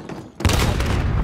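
Gunfire in the video game Call of Duty Modern Warfare: a sudden loud burst of shots starts partway in and rolls on densely to the end, after a short quieter stretch.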